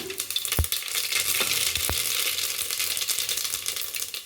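Mustard seeds dropped into hot oil in a pressure cooker sizzle and crackle in a dense, bright spatter, with a few sharp pops and clinks near the start, steady and close throughout.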